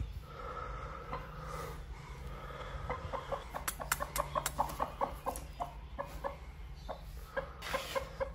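A hen being set on eggs clucks nearby in a run of short, rhythmic clucks that grows busier midway, over faint background rustling.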